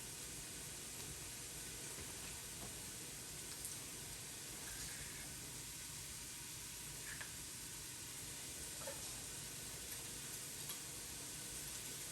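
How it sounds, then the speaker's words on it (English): Onion, pepper and garlic sauté in an Instant Pot for tortilla soup, giving a soft, steady sizzle and hiss with faint stirring clicks throughout, quiet and without speech. "our onion and our pepper have been sauteing up here for a little while"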